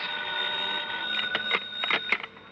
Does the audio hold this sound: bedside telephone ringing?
yes